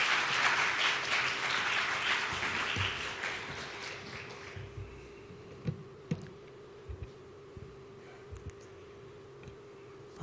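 A church congregation at a combined afternoon service applauds warmly to welcome the pastor. Dense, loud clapping for about four seconds, then it thins into scattered claps and light knocks over a quieter room.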